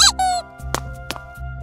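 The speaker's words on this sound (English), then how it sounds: "That was just my shoes. They're really squeaky." Squeaky shoes give a cartoon-style sound effect: high, pitched squeaks in short bursts, then a few sharp squeaks and clicks over a low, steady background.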